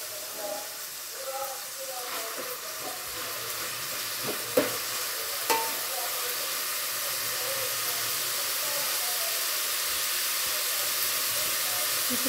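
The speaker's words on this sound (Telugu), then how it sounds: "ఇప్పుడు బాగా ఫ్రై చేసుకుందాం ఇప్పుడు టమాటో ఆనియన్ అంతా ఫ్రై అయిపోయినా" Tomato and onion frying in a pan as the base for drumstick sambar, a steady close hiss and sizzle with a few sharp spatula knocks early on, no voices.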